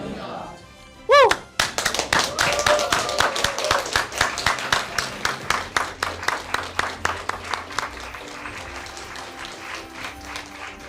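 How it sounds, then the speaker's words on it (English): An audience at a naturalization citizenship ceremony breaks into loud, sustained clapping after a short cheer, the applause gradually thinning and fading over several seconds. "Another round of applause."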